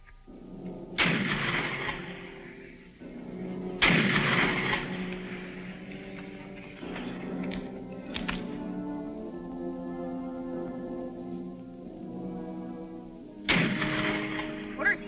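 Several loud gunshots are fired into the ground outdoors, sharp bursts followed by ringing tails, with steady background noise between them.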